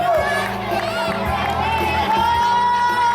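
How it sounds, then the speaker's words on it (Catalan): A school crowd at a peace day assembly cheers and applauds a Castellà fourth-grade class, with children shouting and whooping in a loud, sustained wash, and an announcer's voice carrying over the noise. "Un aplaudiment al quart de Castellà"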